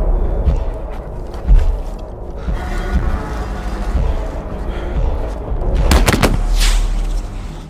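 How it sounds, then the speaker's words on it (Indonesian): A flare pistol fires in a film scene: a few loud sharp reports with rumbling low booms over a dense, noisy outdoor soundtrack, with one bright burst near the end. "Moses lebih dulu menembakkan pistol suarnya di waktu yang sangat tepat"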